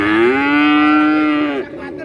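A single loud, close cow's moo at a cattle market, a sustained tonal bellow lasting about a second and a half before tapering off.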